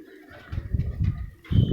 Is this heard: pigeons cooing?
yes